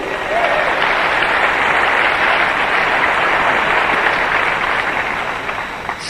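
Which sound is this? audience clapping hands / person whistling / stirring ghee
audience clapping hands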